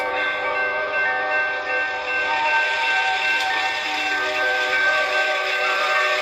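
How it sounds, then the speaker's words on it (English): A freight train sounds a long, sustained horn blast while passing a railroad crossing, a loud, steady chord that rings on for several seconds with a slight swell midway. "I don't know where the rest of the train is, but I think they forgot something."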